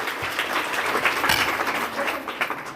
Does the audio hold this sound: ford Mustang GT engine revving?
no